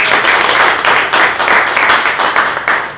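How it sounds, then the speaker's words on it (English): Office sales-meeting audience claps for a colleague who has just spoken, a dense, loud round of applause with a steady pulsing texture throughout. "Let's give Sherwin a round of applause."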